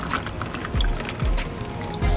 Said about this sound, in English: So I got the water, and I'm gonna pour it in there